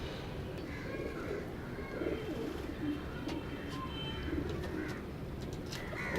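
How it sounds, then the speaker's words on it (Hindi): A large golden pigeon with red eyes coos softly in repeated low phrases, close by, over a faint steady background hum. "ले जी आपको लाल मोती वाला गोल्डन दिखा रहे हैं, हमारा बड़ा कबूतर।"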